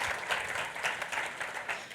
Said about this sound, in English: Please give a round of applause for Cyril and Chris Henderson